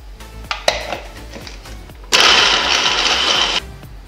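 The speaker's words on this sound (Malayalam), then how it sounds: "നമുക്കിത് നന്നായിട്ടൊന്ന് പേസ്റ്റായിട്ട് അരച്ചെടുക്കാം" A mixer grinder blends peanuts with honey into peanut butter, its motor cutting in loud and steady for about a second and a half after softer clatter and brief bursts.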